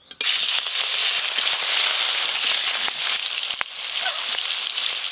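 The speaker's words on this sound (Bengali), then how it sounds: "এবার মাছগুলো ভালো করে ভেজে নেব।" Catla fish pieces rubbed with salt and turmeric fry in hot oil, giving a steady, loud crackling sizzle with frequent sharp pops and spatters throughout.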